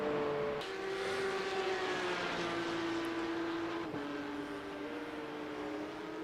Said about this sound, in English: that classic kind of flat 6 sound that a Porsche has